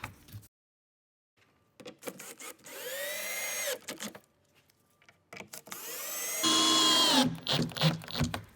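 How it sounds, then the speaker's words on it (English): A power drill drives screws into the metal profile of a skate ledge kit in two loud whining bursts with rising pitch, separated by silence and a few handling clicks. "our screws are just going to go straight through here because we've got holes in the profile that take the screws in here"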